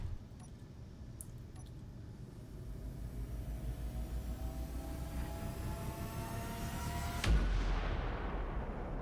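Weapon fire in the video game Space Engineers, a sustained dense roar of gunfire with rising whine, growing louder and hitting a sharp burst near the end, with no talking.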